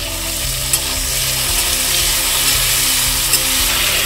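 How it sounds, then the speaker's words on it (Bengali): Onion, garlic and homegrown chopped tomato fry in a pan with a loud, continuous close sizzle throughout, and a few faint stirring scrapes. "তো পেঁয়াজ রসুনটা ভালো মতন ভেজে নিতে হবে, কেটে রাখা টমেটো, গাছের টমেটো।"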